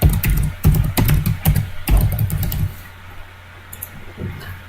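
Rapid clattering keystrokes on a computer keyboard as a folder name is typed, close and crisp in quick irregular bursts, then stopping and leaving quieter room tone with a few isolated clicks.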